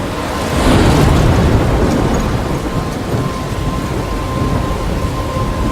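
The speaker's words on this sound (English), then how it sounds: "I'm trapped in a storm?" Thunder rumbles over steady heavy rain during a storm in the video game Life is Strange, a loud broad roar that peaks early and then settles into continuous downpour, with no talk.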